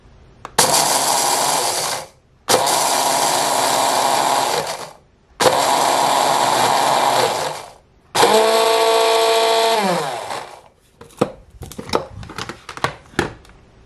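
A mini food processor grinds Fruity Pebbles cereal into powder in four loud, close whirring pulses of a couple of seconds each. The motor pitch drops as the last pulse winds down, followed by scattered clattering.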